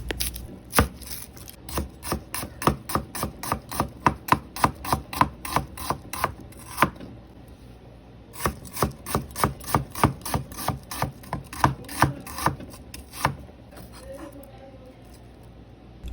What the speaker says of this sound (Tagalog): Hiwang panggisa naman ang gawin natin sa sibuyas.